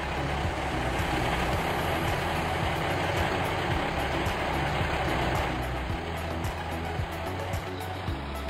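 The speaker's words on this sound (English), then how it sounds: "that garbage truck driver keeps catching up to me fast" A garbage truck for West Valley Disposal in a Roblox game, its steady, close engine rumble and drone running unbroken throughout.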